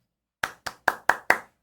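Five sharp hand claps ring out in an even, quick rhythm, close and crisp, with silence before and no voices.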